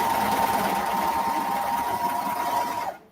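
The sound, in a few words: sewing machine stitching fabric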